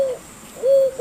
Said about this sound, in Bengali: এটা আমার একটা দৈলে ঘুঘু।